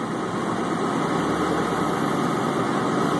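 A Mercruiser 888 marine engine with an EFI conversion, fitted in a 1975 Marlin runabout, idles close by with a loud, steady, low rumble and no voices.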